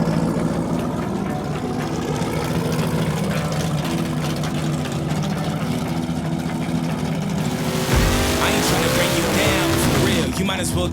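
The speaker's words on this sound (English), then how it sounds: "Next up, we got Daryl in a Chevelle versus Lieutenant Dan in a Mustang." A Chevelle and a Mustang line up for a Chicago street race. Loud engines rumble and idle at length, then rev sharply near the end, with music playing over them.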